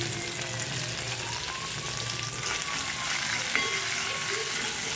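Half a kilo of masala paste for a bangda fish recipe sizzles steadily in hot oil, a close, continuous frying crackle with faint stirring and no talk.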